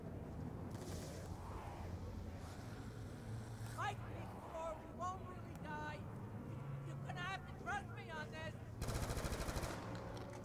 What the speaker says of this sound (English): the AK-47 is beast